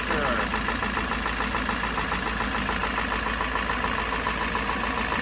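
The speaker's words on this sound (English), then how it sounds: "So we've got a bit of an exhaust leak right here, it looks like." A 7.3 Powerstroke diesel engine idles with an exhaust leak, giving a steady, continuous close-up rumble with a faint rapid ticking texture throughout.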